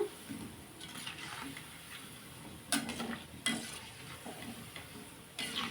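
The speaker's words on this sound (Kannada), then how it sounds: "ಈ ಥರ ಲೋ ಫ್ಲೇಮಲ್ಲಿ ಇಟ್ಕೊಂಡು ಇಷ್ಟು ಹೊಂಬಣ್ಣ ಬರೋವರೆಗೂ ಫ್ರೈ ಮಾಡ್ಕೋಬೇಕು" Gulab jamun balls deep-frying in oil over a low flame give a steady soft sizzle and hiss, with a few sharper crackles and light utensil clicks, close and without any voices.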